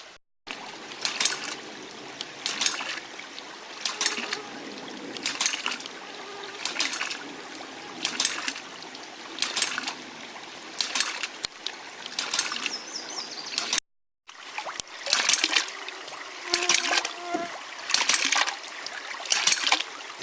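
A hydraulic ram pump at a camp gives close, sharp valve clicks in a regular beat, often two close together, over steady trickling and flowing water, with one brief pause.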